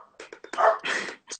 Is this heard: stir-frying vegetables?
no